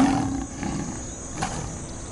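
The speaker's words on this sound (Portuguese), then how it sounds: "O segredo para o rugido do leão é a laringe." A lion roars: a deep, rough, sustained roar that is loud and close, standing alone with no talk.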